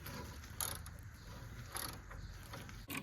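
A torque wrench ratchets on control arm bolts of a 1968-74 Chevrolet Nova under the car, giving faint repeated clicks and clunks over a low background hum.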